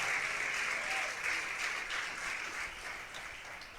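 A church congregation bursts into dense, continuous applause, a steady wash of many hands that eases slightly toward the end.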